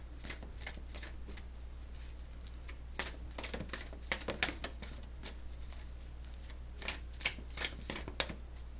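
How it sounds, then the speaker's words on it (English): A large oversized deck of cards is shuffled vertically, giving a dense run of soft riffling patters and crisp flicks, close and fairly quiet over a steady low hum, with the busiest bursts in the middle and near the end. "This is also like a huge deck. So I have to shuffle it vertically."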